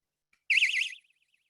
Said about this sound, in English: I put these on my door alarms. You've seen how loud that is?